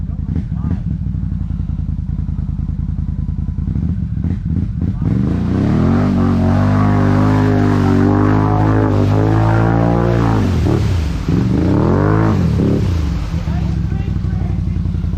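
A 2021 Honda Rubicon 520 ATV engine running close by, rising from a low idle into a sustained, wavering rev, then dropping and climbing again, loud and rough, with a voice briefly heard.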